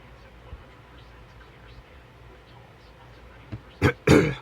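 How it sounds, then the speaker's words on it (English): After a quiet stretch of low background noise, a person clears their throat and coughs twice, loud and close at the end. "I know I'm coughing up snot."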